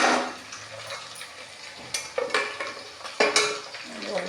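Leftover sambar fries in a pan, a soft sizzle under several sharp clinks and scrapes of a utensil stirring against the pan, with no talking.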